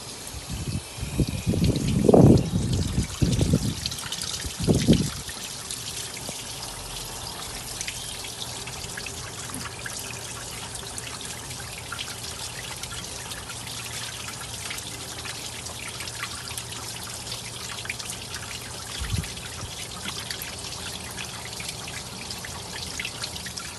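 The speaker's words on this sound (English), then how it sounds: "Now we're gonna flush the radiator from the top." Water flushes through a London Taxi radiator, opening with a few seconds of splashing and gurgling pours and then settling into a faint, steady trickle that runs for the rest of the clip, with no talking.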